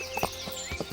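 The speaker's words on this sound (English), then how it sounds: "Where the fuck's my horse? Ah. Come on, Roach" Horse hooves clip-clop in the medieval video game Kingdom Come Deliverance, several quick, close hoofbeats in an uneven walking rhythm.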